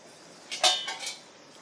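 A metal lid lifted off a pot of moong dal cooking on a stove, a short run of close metallic clinks and clatters lasting about a second.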